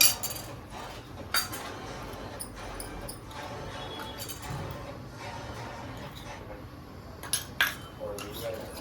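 A spoon stirs turmeric into a small amount of milk in a home kitchen during chicken biryani preparation, giving sporadic light metallic clinks and taps over a soft, steady background.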